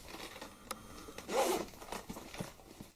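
Zipper on a small carrying case for an Eachine E56 folding selfie drone being pulled open, a short close rasping zip swelling in the middle with light handling clicks around it, no voices.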